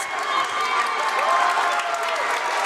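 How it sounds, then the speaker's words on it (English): A high school wrestling crowd at Washington Court House vs Miami Trace cheers and shouts in a loud, continuous roar of many voices filling the gym. "The crowd's getting excited."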